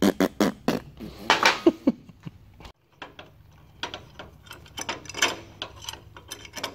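New oil pump gears dropped into a Mustang oil pump for a Coyote engine, making a quick run of sharp, close metallic clicks and rattles, then a brief silence before more scattered clinks.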